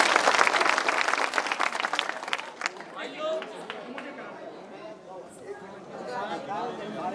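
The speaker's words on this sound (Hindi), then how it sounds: "दोनों हाथ उठाकर तालियां बजाकर उनका" A crowd applauds the chief minister at a gathering with a Jain monk at Bandha Ji, giving loud, dense clapping at first that thins into scattered claps over chatter and murmuring voices.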